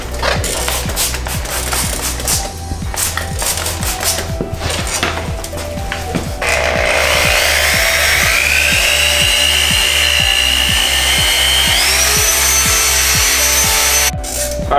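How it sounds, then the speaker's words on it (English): A power drill spins 1500-grit sandpaper across a UV-damaged plastic car headlight, giving a loud, steady whir with a regular pulsing thump throughout and a brighter, higher grinding tone from about the middle onward. "you make sure you're moving the drill around a lot"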